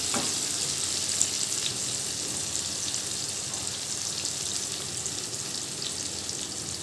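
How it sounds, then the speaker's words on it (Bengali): Sliced onions fry in hot oil for a fish curry, a steady bright sizzle with faint crackles and a soft stir near the start, close and continuous with no talking. "পেঁয়াজটা একটু ভাজা ভাজা হতেই"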